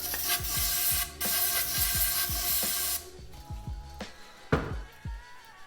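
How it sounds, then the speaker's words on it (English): Aerosol brake cleaner hisses in several bursts, loud and close, sprayed onto Fox 36 mountain bike fork lowers, stopping and starting with small clicks and knocks of handling between them. "Spray brake clean down."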